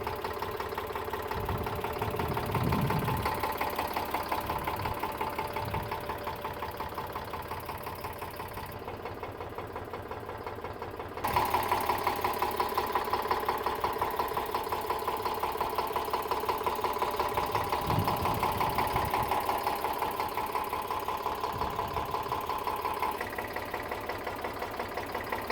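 A 2022 Swaraj 742 XT tractor engine idles at close range, running as a continuous, even diesel chug with a rhythmic knock that steps up slightly in loudness partway through, with no talking.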